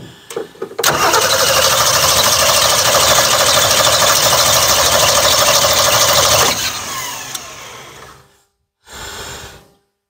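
A 1962 Ford Falcon Ranchero engine cranks over without fuel, its starter churning loudly and continuously for several seconds without catching. The churning tapers off, followed by a short separate burst of cranking.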